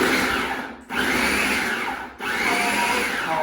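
A food processor pulses a chopped mix of onion, celery, carrots and garlic in loud whirring bursts, three roughly equal runs separated by two brief pauses, close and steady with no talk.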